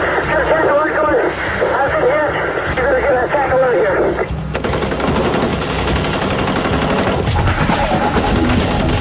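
Automatic gunfire during the 1997 North Hollywood shootout, rapid bursts sprayed in all directions, dense and continuous, with crowd noise and a narrator talking over the shots.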